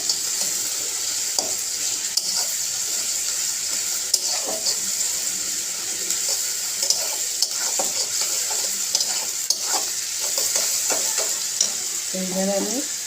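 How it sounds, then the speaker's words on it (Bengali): Onion and garlic frying in a pan, a continuous bright sizzle under repeated scraping stirs and occasional clinks of the spoon against the pan, close and unbroken, with no voices. "পেঁয়াজটা রসুনটা ভাজা হয়ে গেছে"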